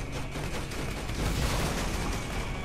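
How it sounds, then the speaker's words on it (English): Dense, continuous gunfire and explosive clatter from the Borderlands video game, a sustained barrage of overlapping shots that fills the whole stretch at steady loudness with no clear gaps. "Shoot the gun"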